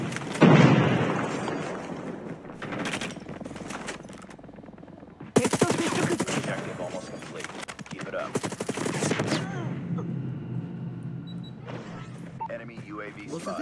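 Rapid automatic fire from the HVK rifle in the mobile shooter Call of Duty Mobile, in loud bursts with brief pauses between, mixed with game effects and someone talking over the action.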